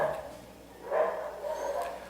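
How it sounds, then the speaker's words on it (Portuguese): Faint dogs barking in the distance, a few muffled barks spaced over a quiet background. "Agora tem cachorros latindo."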